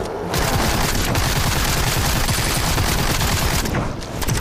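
Dense, continuous gunfire in the horror shooter video game Sker Ritual, a loud rapid barrage of shots and booms filling the whole stretch.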